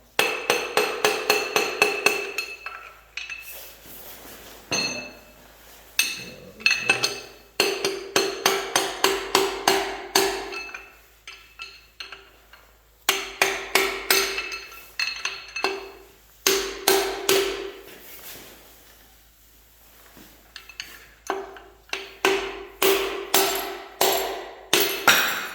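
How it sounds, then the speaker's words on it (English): Repeated metallic hammering as a piston is knocked out of an engine block with a long half-inch drive extension during an engine teardown; close, loud bursts of rapid clanking strikes separated by short pauses, with no talking. "All you need is something to smack it out with, the other side. I'm just using a long 1/2 inch extension."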